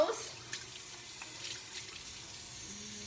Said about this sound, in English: block the water from the ears, and just rinse that way